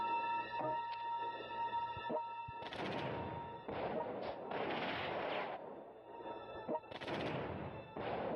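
Bursts of gunfire, explosions and bombing roll through a World Conqueror 3 battle, loud dense clusters of blasts with short gaps between them, set over a steady synthetic game hum with no voices.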